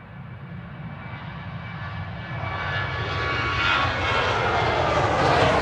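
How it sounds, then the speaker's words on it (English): An airliner on Flight 804 departs Manchester Airport bound for Dalaman, its engine roar building steadily and growing louder and brighter as it climbs, a broad continuous rumble with no talk over it. "Flight 804 heading over to Dalaman on the south coast"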